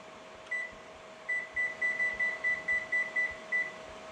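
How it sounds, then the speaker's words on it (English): Kitchen oven timer being set for a keto chicken-crust pizza, giving a series of short electronic beeps: one early beep, then about ten quick evenly spaced beeps, with a steady appliance hum underneath. "So we're going to put the timer on."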